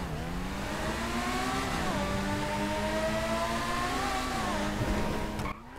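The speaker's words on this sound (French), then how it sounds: "je vais vous faire écouter le bruit du véhicule ici" A new hypersport car in a video game revs steadily, its engine rising and falling through gear-like pitch shifts, loud and continuous, alone without talk.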